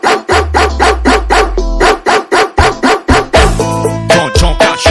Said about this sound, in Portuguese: Cuidado, cuidado com o cachorrão.